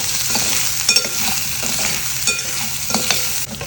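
Capsicum fries with turmeric in a pan, giving a bright, steady sizzle with several scraping stirs of the spoon. The stirs come through close and clear, and no one speaks.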